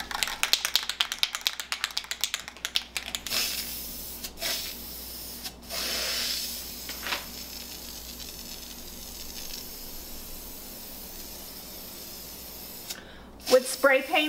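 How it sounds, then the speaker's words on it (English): Short hissing bursts from a spray can painting a metal light fixture, several separate passes with pauses between them, close by. "With spray painting, you want to make sure that you're doing nice, even motions so you don't get any drips."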